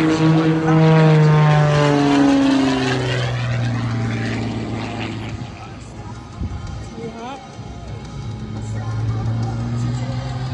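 A propeller aerobatic plane at the Thunder Over New Hampshire air show roars overhead through rapid rolls and reversals, its engine pitch sweeping up and down loudly while an announcer talks over it.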